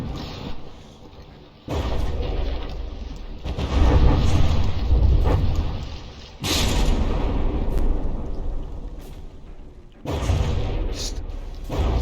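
Battleships in the video game From the Depths fire massive gun volleys, heavy booming blasts that roll into long rumbling stretches, with sudden sharp cracks breaking in, loud and dense throughout.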